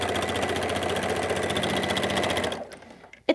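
A sewing machine runs fast with a steady, close mechanical whir and rapid rhythmic stitching clatter. It stops abruptly near the end, followed by a short clunk.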